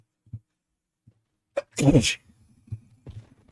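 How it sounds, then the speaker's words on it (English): A single sneeze bursts out during a casual video game session, a short sharp explosive blast preceded by a few quiet breaths and followed by soft murmuring. "I'm gonna sneeze."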